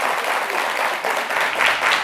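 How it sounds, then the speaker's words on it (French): Studio audience applause on a French television show, a dense, steady wash of many hands clapping close by and filling the whole stretch without a break. "Merci de les applaudir tous très fort."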